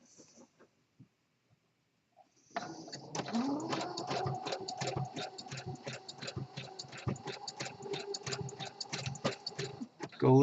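A home sewing machine stitching an elastic waistband onto boxer briefs with bulky nylon bobbin thread, starting after a quiet pause into a steady, rapid mechanical clatter of needle strokes up close.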